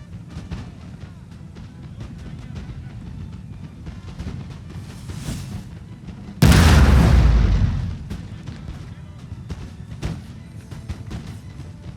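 A heavy cannon boom in a Napoleonic-era strategy video game bursts out midway, loud and booming before fading, over a busy background of distant battle noise and scattered pops.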